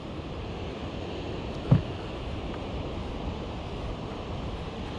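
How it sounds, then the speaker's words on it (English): Wind on a beach during a fishing trip makes a steady broadband roar with surf-like wash, loud and unbroken apart from one brief knock near the microphone. "this morning there's a bit more wind."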